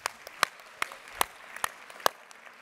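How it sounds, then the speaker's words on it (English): Audience applause at a keynote conference on health and climate science, with scattered claps and sharp individual hits over a soft wash of clapping, fairly faint and distant. "We can applaud him"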